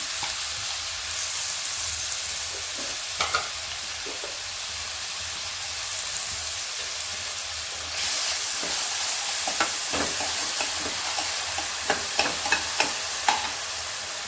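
Chopped onions sizzle steadily in hot oil in a pan for pav bhaji, a constant frying hiss that swells louder midway, with scattered soft stirring clicks and scrapes and no talk.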